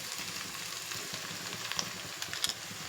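Cucumber pieces and tomato fry in a pan for a dried shrimp curry, a faint, steady sizzle with a few small crackles and pops near the end, no speech.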